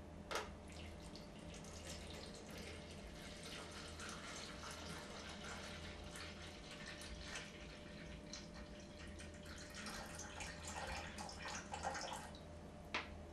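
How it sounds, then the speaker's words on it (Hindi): Water poured into a large box holding a small taped-down container, heard as a faint, steady trickle and splash that runs throughout with no talking. "चलिए अब हम इस डिब्बे में पानी भरते हैं।"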